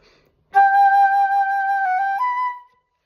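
A bright, ringing steel pan note with grace notes sustains for about two seconds, with a quick step up in pitch near the end, played alone and clearly.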